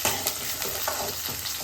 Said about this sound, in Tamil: இந்த மாதிரி கருவேப்பிலையை போட்டுக்கலாம்.